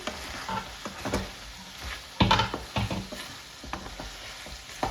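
Ginger chicken stirred in oil in a pan, with scraping strokes and a brief louder burst of clatter over a steady low sizzle, close and alone.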